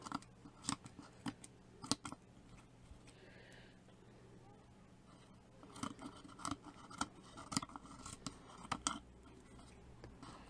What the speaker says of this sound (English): cut round the edge.